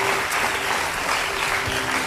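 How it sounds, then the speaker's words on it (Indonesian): Studio audience at the Hitam Putih talk show bursting into dense, loud applause, a continuous roar of many hands clapping for the whole stretch. "tepuk tangan lu dong buat dia"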